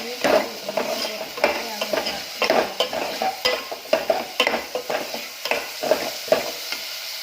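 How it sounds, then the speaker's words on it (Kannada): Sliced onions and green chillies sizzle in hot oil in a pan while being stirred repeatedly, with loud, close scraping strokes over a continuous frying hiss. "ಈರುಳ್ಳಿ ನೀಟಾಗಿ ಎಣ್ಣೆಯಲ್ಲೇ ಫ್ರೈ ಆಗಬೇಕು."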